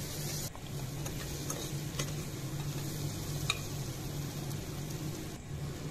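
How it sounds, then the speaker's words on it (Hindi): Potatoes and beans being stirred and roasted with cumin, coriander, black pepper powder and garam masala in a pan, giving steady soft sizzling with faint scraping ticks throughout, no talking. "इसके बाद इसमें जीरा पाउडर, धनिया पाउडर, गोल मिर्च पाउडर, थोड़ा गरम मसाला डालकर भूनेंगे।"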